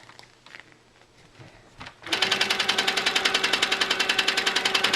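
A sewing machine stitches fabric along the edge of a template for a pillow sham, running in a steady, fast rapid-fire rhythm after a couple of seconds of quiet handling noises.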